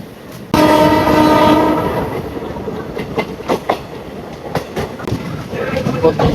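A train pulls into Mangalagiri railway station, its horn blaring loudly for over a second, followed by rhythmic clickety-clack of wheels over rail joints and rumbling carriages close by.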